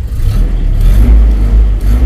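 A carbureted 2006 Nissan Terrano engine cranks and fires on a cold start, a loud, steady low rumble running throughout with slight surges.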